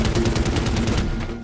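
Rapid automatic gunfire in the Medal of Honor Warfighter video game, a fast rattling burst of evenly spaced shots that stays loud and close before tapering slightly.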